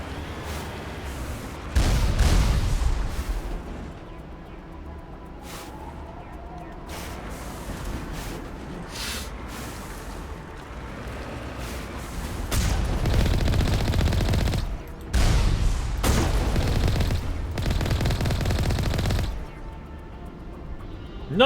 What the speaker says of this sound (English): mercilessly slaughter with my cannon